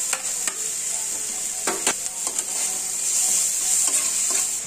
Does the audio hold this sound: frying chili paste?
yes